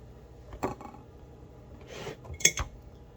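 Boxed stovetop stuffing scooped into a baking pan: a few faint scrapes and clinks of a utensil against the pan in a quiet kitchen, with a short rubbing sound in the middle.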